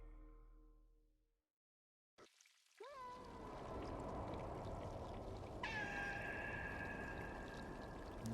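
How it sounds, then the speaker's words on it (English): Cats meowing in the Stray video game, with a few drawn-out meows rising over a steady rain-like wash of background ambience after a quiet start. "You can hear his friends calling to him."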